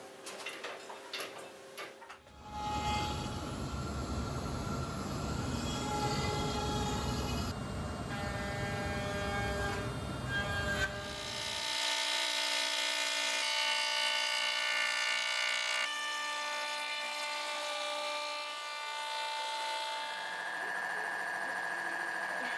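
Wooden guitar body built from glued-together offcut scraps being sanded, a steady buzzing power-sander drone with shifting pitch that runs for most of the stretch, dropping to a lighter whir partway through.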